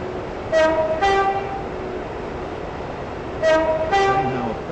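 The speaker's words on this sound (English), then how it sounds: "This train is now approaching" A train's two-tone horn sounds twice in paired blasts over a steady rumbling hum as it approaches a station in the video game Stepford County Railway, loud and near, with no voices.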